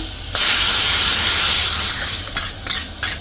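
A curry leaf tempering is poured into hot spinach curry, a sudden loud sizzling hiss that holds steady for a couple of seconds and then breaks into a few fading crackles and pops.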